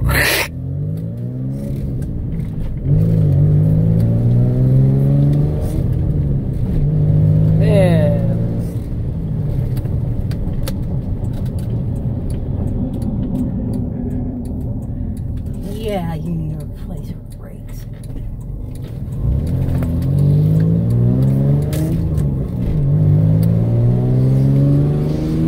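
A V6 Toyota Camry with a five-speed manual gearbox revs repeatedly while being driven, its engine note rising and falling in waves beneath almost constant conversation inside the car.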